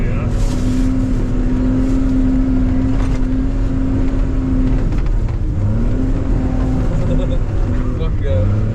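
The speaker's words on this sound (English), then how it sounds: "I'm in third gear, like we're spinning tires, buddy." A first-generation Cummins truck in third gear drives off-road with spinning tires, its diesel engine droning loud and close with rising and falling revs, while people talk over it.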